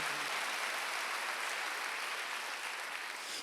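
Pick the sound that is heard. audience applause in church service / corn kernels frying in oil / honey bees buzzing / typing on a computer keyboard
audience applause in church service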